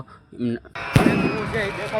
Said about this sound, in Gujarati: અને અત્યારે ફટાકડા પણ હોય છે મસ્ત ફૂટી રહ્યા છે